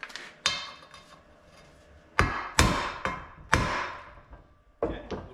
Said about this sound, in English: Now, tap this guy back. Probably should use a socket on him.